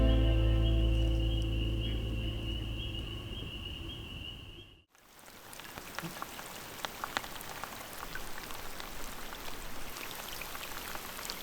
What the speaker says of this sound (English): How much longer till the rain stops?